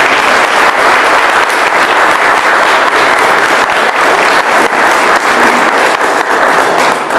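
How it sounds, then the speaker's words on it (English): Audience at a candidate debate gives a sustained round of applause, dense steady clapping filling the room at close range for several seconds. "if you would give these folks a round of applause"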